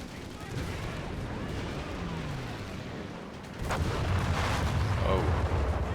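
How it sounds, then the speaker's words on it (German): Airstrike explosions in the Company of Heroes 3 war game, a dense steady rumble of blasts and gunfire that swells louder partway through, with a voice speaking over it. "Airstrike incoming."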